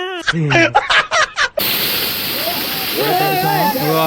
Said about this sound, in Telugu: చాలా బాగుంది వాటర్ ఫాల్స్